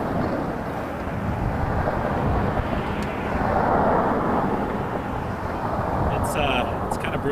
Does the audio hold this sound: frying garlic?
no